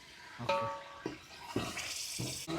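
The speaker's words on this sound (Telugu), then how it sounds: "కొంచెం గిన్నె కడిగేసి వాటర్ పోస్తున్నాను" Water is poured into a cooking pot holding frying chicken for biryani, a soft splashing pour in short bursts with a few metallic clinks, faint and close.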